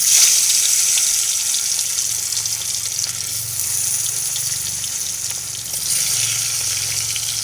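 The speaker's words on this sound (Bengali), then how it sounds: "গরম হয়ে গেছে, এবার একটা একটা করে আমি মাছ দিয়ে দেবো।" Small fish, washed and coated with salt and turmeric, frying in hot oil with a continuous hissing sizzle that swells and fades, close and fairly loud.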